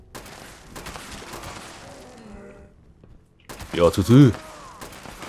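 Gunfire in the video game Fallout 76 during a fight with mutants, a brief loud burst of shots near the end after quieter game ambience, with someone speaking briefly.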